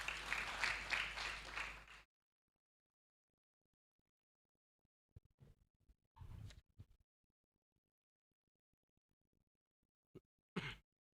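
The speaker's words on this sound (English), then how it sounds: "Let's give him a big hand clap." An audience claps in welcome for a doctor at the Uganda Aquaculture Census 2025 report event: a dense burst of applause for about two seconds, then near silence broken by a few faint, scattered taps and short bumps.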